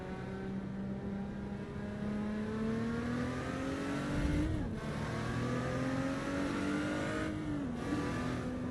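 Race car in the Assetto Corsa EVO racing game revs hard while leaving the pit lane, engine pitch climbing steadily with brief dips at gear shifts, loud and continuous with no talking.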